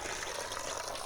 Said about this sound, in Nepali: फाइनली हामी पानीको धारामा आइपुग्यौँ